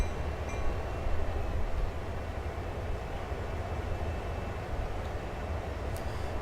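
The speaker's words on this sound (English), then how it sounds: "in this view I might be able to see that intermodal train come in" In a train simulator game, an intermodal freight train rolls in with a steady, dense low rumble of wheels and cars that holds at a constant level throughout.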